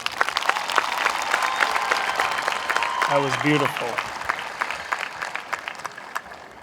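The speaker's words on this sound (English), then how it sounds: "One more round of applause for them." Audience applause after a song at a high school graduation ceremony, dense clapping that swells and then thins, with a voice and brief cheering heard over it midway.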